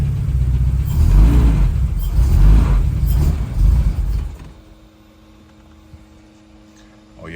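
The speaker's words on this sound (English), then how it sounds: "I'm gonna rev from inside the car to see what it sounds like." Turbocharged Honda H22 engine in a CB7, running rich and struggling, revved from inside the car: deep uneven rumbling swells for about four seconds, then the sound falls away to near quiet with faint hum.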